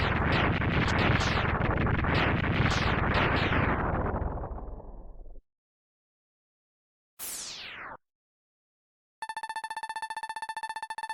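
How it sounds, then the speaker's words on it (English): Loud explosion blast in the video game Mega Man X3, a dense rumbling burst that rolls on for several seconds before cutting off, followed by a short descending sweep and a sustained electronic tone. "What was that explosion?"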